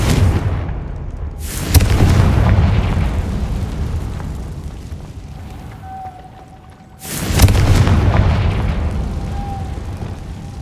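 Two heavy booming blasts of the Confringo fire spell in Hogwarts Legacy, each a loud sudden burst with a rumbling tail, several seconds apart over a low ambient drone.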